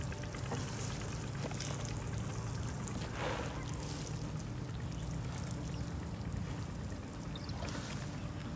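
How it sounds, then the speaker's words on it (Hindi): Water is poured over a freshly sown spring seed bed, giving a steady, soft pouring and trickling hiss that runs evenly throughout, faint and with no voices. "आगे फिर हम उसी तरह से इसको पानी दे रहे हैं अच्छी तरह से"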